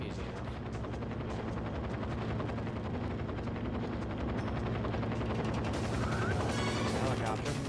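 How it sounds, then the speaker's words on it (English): A helicopter in 007 Nightfire drones with a continuous rapid rotor chop, steady and fairly loud, while faint game effects and brief voices mix underneath. "Helicopter."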